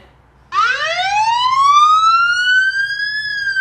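A loud electronic SOS siren played from an Oukitel WP19 phone starts suddenly and sweeps upward in a long rising wail, then holds steady near the top.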